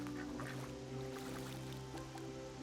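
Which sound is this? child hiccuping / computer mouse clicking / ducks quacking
ducks quacking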